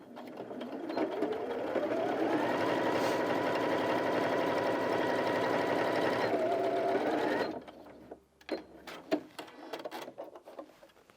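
A Janome Sewist 780DC sewing machine stitches through four layers of fabric, a steady, loud mechanical whirring hum lasting several seconds before stopping, followed by faint handling clicks.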